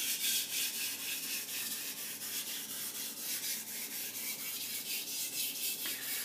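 A Takeda Gyuto kitchen knife is stroked back and forth across a Japanese whetstone, an Imanishi 1K or Blue Aoto 2K, with steady rhythmic rasping strokes at close range and no talking.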